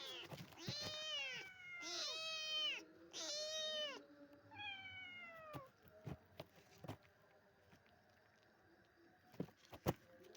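A pet cat in a kitchen meows close by, several drawn-out calls in quick succession, then quieter sounds with scattered clicks and knocks.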